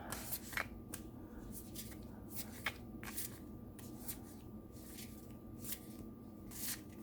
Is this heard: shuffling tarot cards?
yes